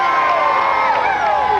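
Dense crowd of fans at the New York Rangers 1994 Stanley Cup victory parade, loud sustained cheering, whooping and shouting close by.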